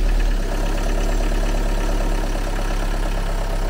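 An Audi A8 engine idles steadily after being restarted, a close, continuous low rumble with an even mechanical patter and no voices.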